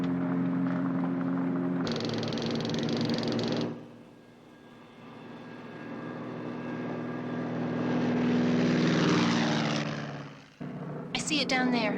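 A drone's propellers fly in on a target near an ambulance, a steady droning whine rising to a loud pass and then cutting out, with voices over it.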